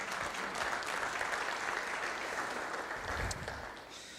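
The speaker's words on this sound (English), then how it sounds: "Let's give her a round of applause." Applause from the audience at a Fresno city council meeting, a steady round of clapping that fills the room for about four seconds and fades slightly at the end, with no voices over it.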